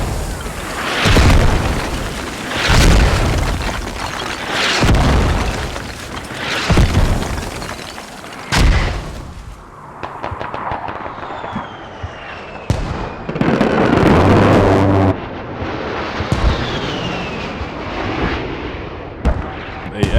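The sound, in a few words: airstrike and mortar explosions in the video game Squad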